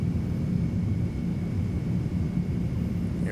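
Airbus A310 jet engines spooling during a takeoff roll in the flight simulator MSFS 2020, a steady deep low rumble with a broad roar, continuous and fairly loud with no voices.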